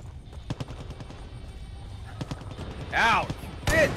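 Gunfire in the Far Cry 5 zombie expansion, a few sharp separate shots spaced through the clip, with other game effects swelling near the end.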